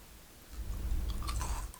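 Close-up chewing of crispy fried BBQ-sauced chicken drumstick with crisp, crunchy bites, a few loud crackling chomps in quick succession, no talking.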